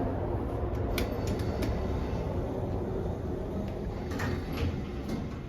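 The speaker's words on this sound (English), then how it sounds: "a Schindler hydraulic lift" A steady low mechanical hum from a Schindler hydraulic lift at Hemmant train station runs throughout, with a few faint clunks and sliding rattles of doors, close and continuous.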